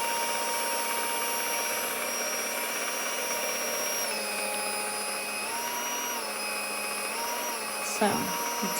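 A Tefal HT650E Power Mix Silence hand mixer runs at top speed with a loud, steady motor whine, dipping and shifting pitch a few times before a brief clatter near the end.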